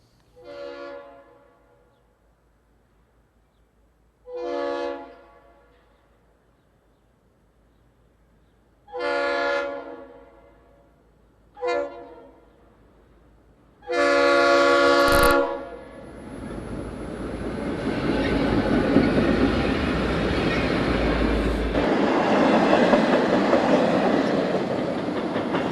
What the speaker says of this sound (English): we see a Santa Fe westbound passing the still open station